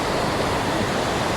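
Strong, steady rush of water gushing from a broken pipe, a dense continuous roar filling the space close by without pause or voices.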